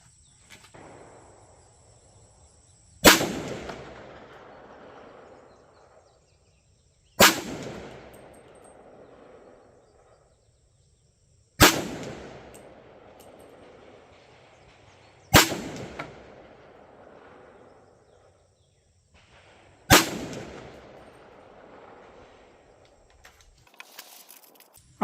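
Five loud, sharp rifle shots of Palmetto AAC .300 Blackout ammunition fired at a target, evenly spaced about four seconds apart, each with a short echoing decay into near quiet between.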